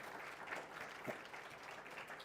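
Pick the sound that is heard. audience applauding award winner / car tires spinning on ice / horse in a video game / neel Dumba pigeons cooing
audience applauding award winner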